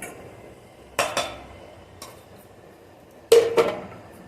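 Mixed vada pav ingredients being scraped into a bowl, a few sharp metallic clinks and scrapes of a utensil against the dish in short bursts, close, quiet between strokes.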